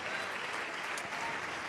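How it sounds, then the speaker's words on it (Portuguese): A congregation applauds Jesus during a church service, with steady, dense clapping from a large crowd sustained evenly and without a break. "Vamos aplaudir ao Senhor Jesus"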